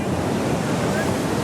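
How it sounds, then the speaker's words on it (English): Ocean waves roar continuously, a loud, dense wash of surf with a touch of wind buffeting, no pause throughout. "The roar of the ocean is louder today."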